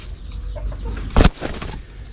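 Hens cluck softly in a dim nesting area where eggs are laid, with a brief louder rustle or flap in the middle, close by and without speech.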